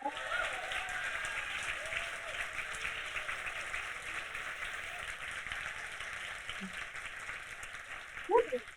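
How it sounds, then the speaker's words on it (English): Steady round of audience applause fills a 2023 environmental stewardship awards ceremony, sustained and fairly even throughout, with a few voices calling out over it and a brief louder burst near the end. "So let's give everyone a big round of applause and shout out your friends, please."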